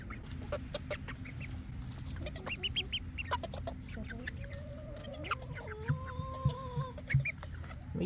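Poultry such as geese and chickens calling while being fed, scattered clucks and honks over a constant low background hum, with a longer wavering call near the end; quiet overall.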